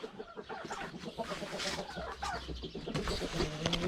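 Hens cluck and murmur close by in a coop shared with roosters, whose calls mix in, a busy steady chatter of fowl over low background noise.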